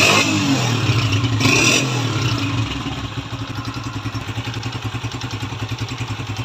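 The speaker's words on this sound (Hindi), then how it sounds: "अभी इंजन का साउंड भी चेक करवाते हैं" A 2023 125cc motorcycle engine runs close by, first revving loudly with some clatter, then settling into a rapid, even idle thump.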